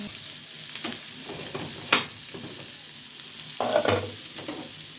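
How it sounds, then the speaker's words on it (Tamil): Onions, curry leaves and green chillies sautéing in a pan, with soft continuous frying and stirring noises and a few sharper scrapes of a spoon against the pan, fairly close and moderately loud, no talking. "நல்லா வதங்கட்டும்."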